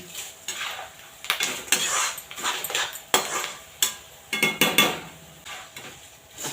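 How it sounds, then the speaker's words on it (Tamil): Chana dal, urad dal and curry leaves roasting in a pan for temple-style puliyotharai, with a spoon scraping and clinking against the metal in quick irregular bursts close up, faint sizzle underneath, no talk. "பருப்பு நல்லா செவந்து வந்துருச்சு நம்ம போட்ட கருவேப்பிலை கூட நல்லா ரோஸ்ட் ஆகிடுச்சு"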